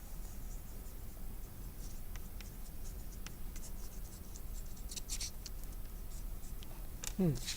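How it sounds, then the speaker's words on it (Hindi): Scratchy strokes of a candle being written across paper, close and soft, with faint intermittent clicks over a steady hiss of room noise. "इस कैंडल से हम कुछ लिखते हैं"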